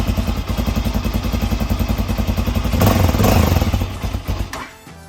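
A Tekken 300 motorcycle, 2025 model, starts up close by and runs with a loud, throbbing, fast-pulsing engine note, revving briefly around the third second before settling and cutting down near the end.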